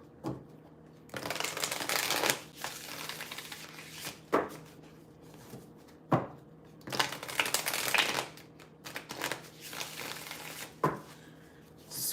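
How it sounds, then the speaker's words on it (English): Tarot cards shuffled by hand in repeated bursts, riffling and slapping with short pauses between, close and fairly quiet, with no talking. "They really wanted some good shuffling here."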